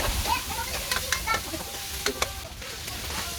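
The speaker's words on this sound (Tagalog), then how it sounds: "Sunod natin is yung ating chicken liver. So prituhin natin yan at hinahinay lang para hindi madurog" Chicken liver fries gently in a pan for chicken lomi, a soft steady sizzle broken by a few close clicks and scrapes as the pieces are moved.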